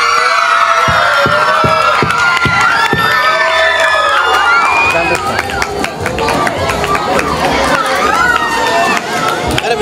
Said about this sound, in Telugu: ఒక్కసారి క్లాప్స్